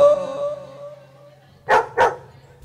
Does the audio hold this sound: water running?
no